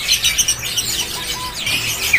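An albino zebra dove chirps in short, bright calls amid the ambient bustle of a bird market stall, the notes close and fairly loud with no speech.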